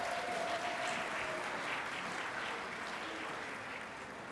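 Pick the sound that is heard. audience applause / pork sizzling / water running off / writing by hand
audience applause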